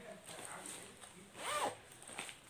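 Zipper of a large washable pouch with a waterproof lining, pulled in a couple of quick soft zips close up, fairly quiet.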